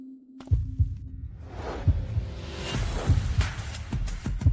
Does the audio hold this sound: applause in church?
no